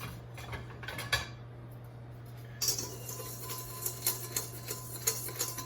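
Strawberry cake batter is mixed in a bowl, giving clattering, tapping utensil scrapes in an uneven rhythm, close and fairly quiet over a steady low hum.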